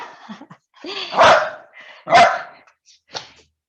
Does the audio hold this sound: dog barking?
yes